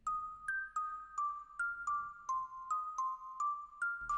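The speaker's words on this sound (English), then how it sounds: "go to Purity and use this carimba" A Purity bell and perc kalimba preset plucks a simple, evenly spaced melody of bright, ringing tones with short decays, clear and alone with no talking.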